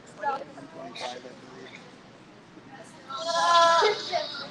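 A goat at a livestock show lets out a loud, drawn-out bleat near the end, after a stretch of nearby people talking over a quieter background.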